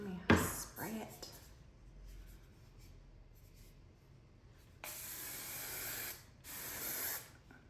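Short aerosol hairspray bursts hiss close by, one sharp at the start and two longer sprays later, with quiet rustling between them.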